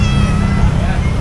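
Exotic Persian cat meowing at an outdoor pet market stall in Marilao, Bulacan, brief calls rising over loud crowd chatter and traffic rumble, with people talking nearby.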